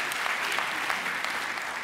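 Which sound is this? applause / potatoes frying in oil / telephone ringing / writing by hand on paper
applause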